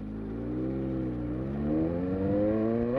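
Motorcycle engine heard while riding, a steady mid-pitched drone that rises in pitch and grows louder as the bike accelerates, close and continuous.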